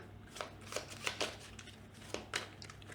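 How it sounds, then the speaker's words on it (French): Clan cards from the board game Horde shuffled by hand, a few quick riffling bursts spaced unevenly over a few seconds, close but soft against a quiet room. "on va prendre l'ensemble des cartes du clan, des 3 clans dans le cas, qu'on va mélanger"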